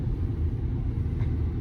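Ford Super Duty pickup truck cruising near highway speed, a steady low engine and road rumble heard from inside the cab, continuous and fairly loud.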